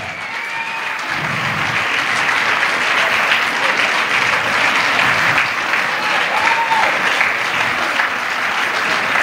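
A long, steady round of applause from a church congregation at a water baptism service for 23 people, dense and even throughout with no break.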